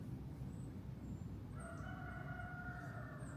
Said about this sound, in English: the other chickens are on the other side of the close house. And they're having talks, seemingly, back and forth between the 2 pens now